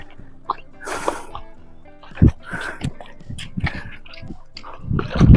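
Water splashing and dripping as freshly caught crabs from a large pond are rinsed clean, with irregular wet sloshes and sharper splashes close by, no talk.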